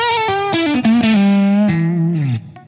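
An electric guitar through a germanium distortion pedal plays a short phrase of picked notes that slide into a long, warm, fuzzy sustained tone and then drops away, loud and without any voices.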